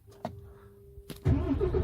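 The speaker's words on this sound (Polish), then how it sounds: "Żeby uruchomić, trzeba hamulec wcisnąć i dopiero wcisnąć raz." A Mercedes Actros truck starts up: a couple of soft clicks, then the diesel engine catches with a sudden loud low rumble that settles into a steady idle near the cab.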